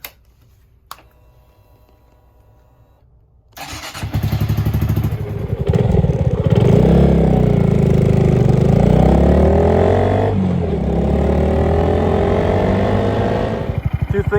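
A Honda Grom motorcycle starts up after a few quiet seconds and a faint click, then its small engine idles, revs and pulls away on a test ride, a close, steady, buzzy drone with rising and falling pitch.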